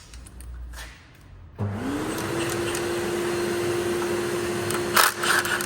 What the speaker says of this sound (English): commence with the vacuum